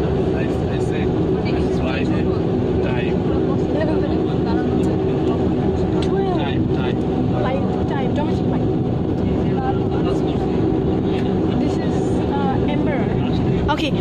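Airliner on a flight to Barishal rumbles steadily and loudly as it taxis along the runway, with voices speaking under the constant engine roar.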